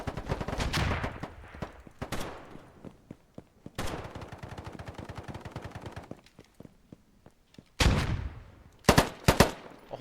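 Video game gunfire in the shooter Polygon, with rapid automatic bursts of loud close shots, some long sustained strings and others short, separated by brief pauses and a few heavier blasts near the end.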